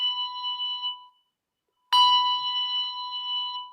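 Handbell tuned to B5 rung twice, each a clear bright ringing tone that sustains and slowly fades, with a short silence between the two strikes, close and alone.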